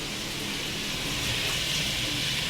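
Dishes being washed in a home kitchen under running tap water, a steady loud rush of water throughout with no talking.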